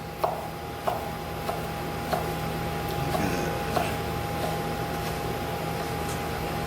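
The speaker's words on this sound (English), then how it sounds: "we're just gonna slice it. Good chunky slices" Knife cutting Spam into chunky slices on a board, a run of sharp evenly spaced chops about once every half second over a steady background hum.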